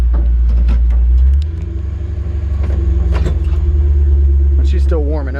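A 1964 Ford F100 Styleside pickup's engine idles while warming up, a steady loud low rumble that persists throughout as a person talks over it.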